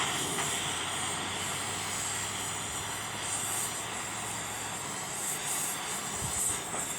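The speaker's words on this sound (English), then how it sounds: "Take your little propane torch. Heat on it a little bit." A small propane torch roars in a steady, broadband hiss while heating a stuck valve on a Farmall H tractor engine, holding an even level for several seconds with no talk.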